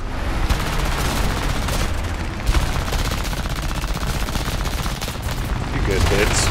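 The twin machine guns of an I-15 biplane fire in a War Thunder air arcade dogfight: a loud, continuous stream of rapid shots lasting the whole stretch, with brief heavier thumps.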